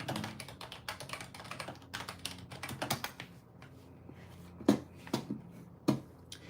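Rapid typing on a computer keyboard, close and fairly quiet, with dense bursts of key clicks, a pause, and a few sharper isolated taps near the end.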